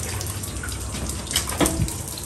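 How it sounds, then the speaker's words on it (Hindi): Water splashes and runs steadily while a motorbike is washed, a constant close wash of liquid noise with a slightly louder splash near the end, and no talking. "बाइक धोना स्टार्ट करते हैं।"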